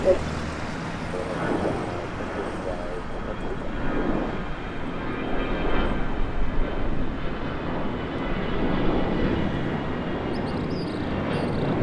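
A fixed-wing airliner at Montego Bay airport in Jamaica, its jet engines a broad, steady roar that rises and fluctuates throughout, with faint radio chatter and traffic hum underneath.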